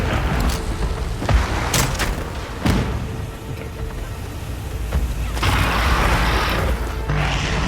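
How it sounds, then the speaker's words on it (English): Explosions in the Monster Hunter Wilds video game, a series of sharp booms and crashes with rumbling mechanical noise between them, loud and close, with no talk. "So many explosions."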